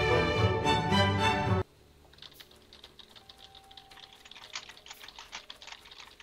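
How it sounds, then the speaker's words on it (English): Quick, irregular computer keyboard clacking while playing Factorio, fairly close, following a brief burst of loud sound at the start; keystrokes come in uneven clusters. "I can hear your keyboard."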